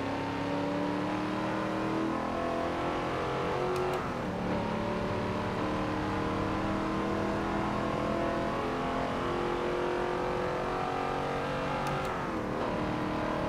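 A Chevrolet Camaro race car engine in Forza Motorsport 7 drones and revs continuously at high RPM, with gear-shift dips and other cars roaring nearby, loud and sustained with no talk.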